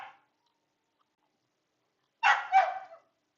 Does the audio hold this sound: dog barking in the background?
yes